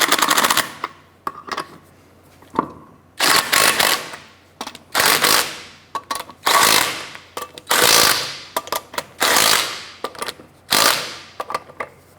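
Lug nuts on a Chevrolet Impala front wheel being snugged down with a power tool, a series of loud rattling impact bursts separated by short pauses, with no talking.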